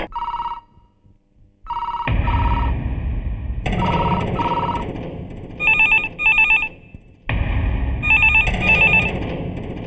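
Telephones at a police station ring unanswered in repeated bright electronic bursts, with several ringers overlapping over a low background rumble.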